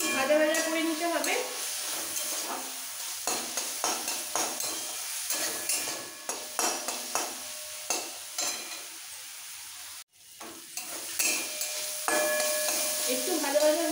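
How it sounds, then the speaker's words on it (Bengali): Ground cumin and black pepper fry in a pan for a street-style masala momo chicken filling, a steady close sizzle broken by repeated stirring scrapes and utensil clinks, with a brief dropout near the end. "একটু 2 মিনিট ভাজা ভাজা করে নিতে হবে।"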